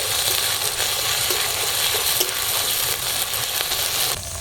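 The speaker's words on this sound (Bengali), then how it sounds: "আদা রসুনটা দিয়ে একটু ভাজা করে নেব" Ginger garlic paste sizzles in hot oil in a pan with already fried onion and green chilli, making a dense, steady frying hiss at close range throughout with no talk.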